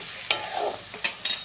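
Mutton cooked wedding-style kosha with cumin, turmeric and chili powders is stir-fried in a pan, giving quiet sizzling and a few scraping spatula strokes in a brief stretch.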